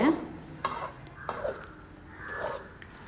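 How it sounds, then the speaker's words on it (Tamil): Tomato, mint and coriander being stirred in a pan, with soft, close scraping and mixing strokes over a faint sizzle at low volume. "தக்காளி, புதினா, கொத்தமல்லி போட்டு நல்லா மிக்ஸ் பண்ணுங்கள்"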